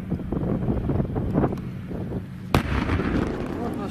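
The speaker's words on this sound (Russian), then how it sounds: "Вот наш танк стреляет." Tank gun firing on a battlefield near Debaltseve, one sharp blast cutting through steady wind noise and rumble, with voices talking around it.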